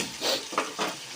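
Mutton liver frying in a pan, a soft sizzle with a few brief stirring scrapes, close but fairly quiet, no voices.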